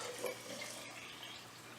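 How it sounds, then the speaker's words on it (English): Water is poured from a tap into a jar of oatmeal and raisins, a soft, close, trickling splash that fades quickly, with no talking. "I take my jar with the oatmeal and the raisins, and I just pour water in it, almost up to the top."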